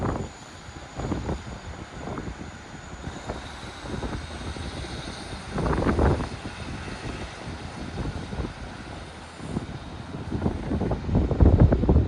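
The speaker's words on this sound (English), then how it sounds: "Departing out now is the 11:35 Northern service from Clitheroe to Rochdale." A Northern passenger train on the Clitheroe to Rochdale service departs a station, a low rumbling engine with swelling surges that grow louder toward the end, over faint wind.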